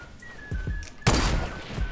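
A single sharp sniper rifle shot rings out in the Fortnite Battle Royale video game, a loud broadband crack about midway that lingers in a short decaying tail over faint game ambience.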